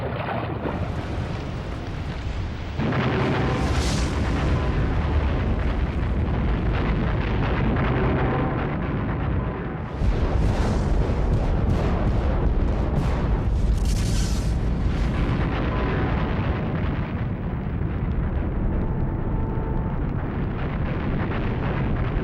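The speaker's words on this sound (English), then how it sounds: "The blast of a super eruption would be awesome enough" A super volcano eruption blast builds into a sustained, massive roar. A deep rumbling wall of sound surges louder around the third second and again near the tenth, with no voices.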